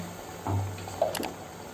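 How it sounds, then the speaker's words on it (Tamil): Water poured into a simmering paneer butter masala gravy in a cooking pot, a short splashing pour lasting about a second with a brief slosh at the end, close and quiet with no talking. "இந்த ஸ்டேஜில் நீங்கள் தேவையான அளவு தண்ணி ஊற்றிக்கலாம்."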